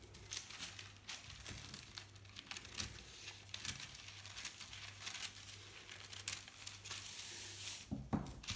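Scissors cutting through fabric for a raglan-sleeve blouse, faint crisp snips and rustling of cloth in a quiet room, repeated in an uneven rhythm without speech.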